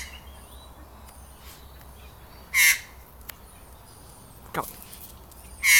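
Magpie calls in short harsh bursts, three loud chattering squawks spaced a few seconds apart near the microphone, with a faint murmur of a voice and a brief clack in between.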